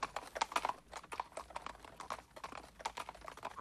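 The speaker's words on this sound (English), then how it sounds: "with their officers following on horseback" Hooves of army horses carrying mounted officers clip-clop in a steady, uneven patter, fairly faint and continuous, with no voices over them.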